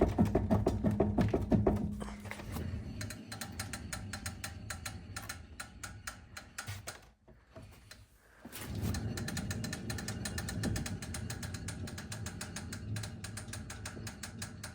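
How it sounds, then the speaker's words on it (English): A badly worn front wheel bearing on a 2005-2009 Ford Mustang hub turns with a rapid ratchety clicking and gritty mechanical rattle, fairly quiet and close, briefly dropping away midway before resuming. "I want to show you guys how bad these wheel bearings were."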